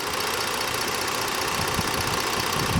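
A 2015 Ford Taurus Police Interceptor detective car's engine, calibrated to government specs, drones steadily and loudly under acceleration, a continuous even roar with no voices.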